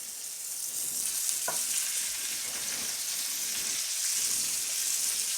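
Chicken frying in hot oil in a skillet on high heat, a bright, continuous crackling sizzle with one brief clink near the start, steady and close with no talk over it.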